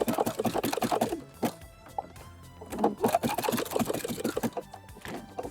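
A sewing machine stitches a short-length zigzag bar tack back and forth on bra straps, its busy mechanical chatter running in short bursts with brief pauses between passes.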